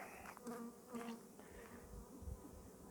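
Honeybees swarm over an open hive during an inspection, their dense, steady buzzing close and continuous with slight swells in loudness, no voices.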